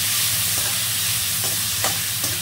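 Chopped big onions fry in a pan with a loud, continuous, close hiss of sizzling, stirred now and then with a few faint scrapes.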